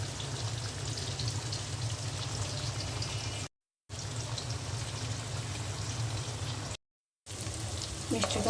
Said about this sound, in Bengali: নামানোর আগে আমি পেঁয়াজের বেরেস্তা দিয়ে দিচ্ছি